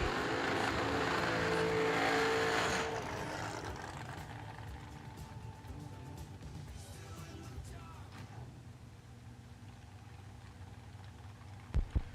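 A dragster at a Friday-night bracket race, its engine roaring loud for a few seconds before fading into a quieter rumble and general track noise, with a couple of sharp bangs near the end.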